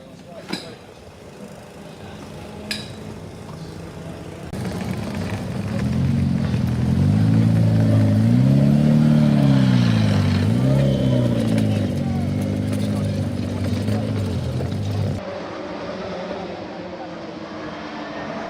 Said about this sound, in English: this is one of the British touring cars